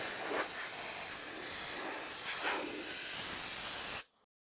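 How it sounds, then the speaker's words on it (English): Compressed air blasts dust and chips off a CNC controller in a workshop, a loud, continuous hiss with slight surges that runs about four seconds before cutting off abruptly. "use compressed air to blow the dust and chips off of it"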